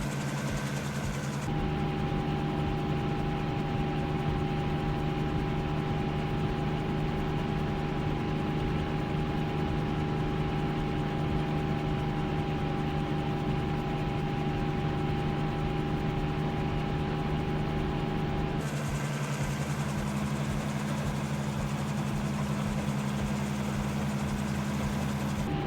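A Cowansim Cessna CH-1 Skyhook helicopter in Microsoft Flight Simulator, flying near a helipad with a steady, even engine and rotor drone, a constant tonal hum that shifts in character near the end.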